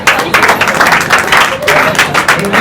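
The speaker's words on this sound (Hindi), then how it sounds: "रमाकांत के लिए जोरदार तालियों से स्वागत कर दिया जाए।" Audience applause and clapping welcome a dancer at a Republic Day celebration at a coaching centre, a loud, dense wash of hands that swells and dips in waves across the whole stretch.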